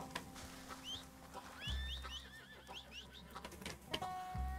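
Horse in Red Dead Redemption 2 giving a few high whinnying calls against a low steady game soundscape, moderately close, with brief tonal effects and no talking.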